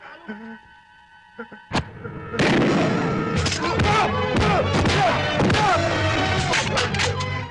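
A loud explosion erupts in a Tagalog action movie, a sharp blast followed by sustained crashing, rumbling debris and chaotic noise; shouting and talk are heard around it.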